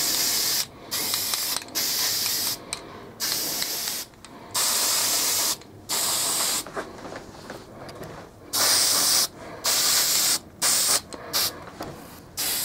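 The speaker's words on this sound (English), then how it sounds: "Or you can take a spray and give it a layer of white first." Short hissing bursts of a can of white spray paint, one after another with brief pauses between, close and fairly quiet.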